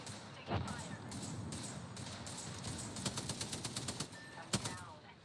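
Rapid gunfire bursts and sharp single shots crackle in the battle-royale video game Apex Legends, clustering into quick rhythmic volleys under constant game noise and chatter.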